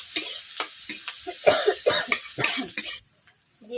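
Chopped raw onions fry in a pan with water spinach and get stirred, giving a soft sizzle broken by rhythmic scraping strokes that stop abruptly near the end.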